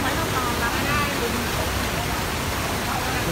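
Strong floodwater flowing through the center of Buôn Ma Thuột city after heavy rain, a steady loud broadband rush and roar that continues without break throughout.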